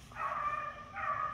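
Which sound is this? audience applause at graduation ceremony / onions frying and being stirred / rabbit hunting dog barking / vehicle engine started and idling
rabbit hunting dog barking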